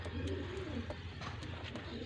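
Soft, low coos from Teddy pigeons repeat against a steady background hum, close by and gentle.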